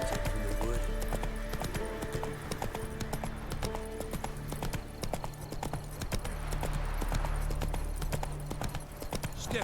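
Roach the horse in The Witcher 3, hooves clip-clopping in a steady quick rhythm close by, over a constant game background drone and music.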